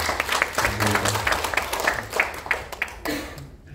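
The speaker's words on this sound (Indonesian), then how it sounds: "Boleh kita beri tepuk tangan untuk mereka." Audience at a book launch applauding the authors, a dense, steady round of clapping from a crowded hall with some voices mixed in, tapering off at the end.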